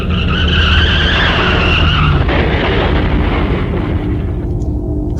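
Loud screeching tires skid for a couple of seconds in the video game Corpse Party Blood Drive, then give way to a heavy, roaring car crash burst of noise that slowly trails off.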